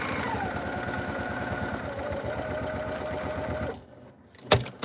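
A sewing machine stitching down a tote bag strap, a fast, steady mechanical whirring and ticking rhythm, close and continuous, then stopping with a couple of short clicks and handling noises.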